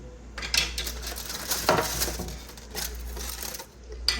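A lid set down on a stovetop pot of Puerto Rican Chinese fried rice with carne frita and edamame, giving a few light metallic clinks and a small clatter over a steady low kitchen hum.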